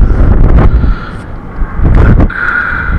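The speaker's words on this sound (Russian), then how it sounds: "ветер дует" Strong wind gusting at a rope jumping site in Chelyabinsk, roaring and buffeting close against the microphone in loud, uneven surges with no talk.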